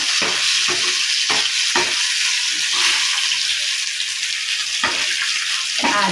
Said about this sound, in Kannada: ತುಪ್ಪ ಹಾಕಿ ತುಪ್ಪದಲ್ಲಿ ಗೋಡಂಬಿ ದ್ರಾಕ್ಷಿನೂ ಹುರಿತಿದ್ದೇನೆ